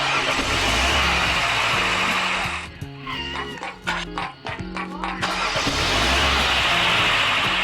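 A car engine in a driving video game is cranked and starts, loud and close, with a steady engine roar that drops to a stuttering, sputtering stretch and then returns to a full drone.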